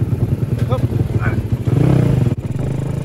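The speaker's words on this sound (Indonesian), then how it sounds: "mesin ini knalpotnya terlalu berisik" A Daytona motorcycle engine with a loud aftermarket exhaust idles loudly nearby with a deep, rapid, popping exhaust throb that swells briefly as it revs, with a voice speaking over it.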